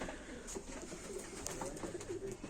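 Male tumbler pigeons coo softly, low throaty murmurs repeating in short bursts against a quiet, hissy background, close but faint, with no talk.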